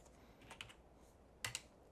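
Typing a value on a computer keyboard while drawing sketch entities in CAD software: a few quick, soft key clicks in two small clusters, close and quiet, with no one talking.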